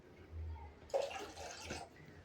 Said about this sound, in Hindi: मग में पानी लेकर के इसको अब डालते हैं